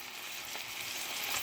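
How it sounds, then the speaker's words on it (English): Bacon rashers frying in a cast iron skillet, a steady close hiss and crackle of sizzling fat that holds even throughout. "the bacon's in, starting to sizzle away"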